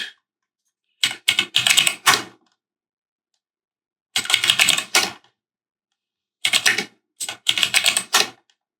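Someone types a command on a computer keyboard in three separate bursts of quick, close clacking keystrokes. Each burst is separated by a second or two of silence, and no one speaks.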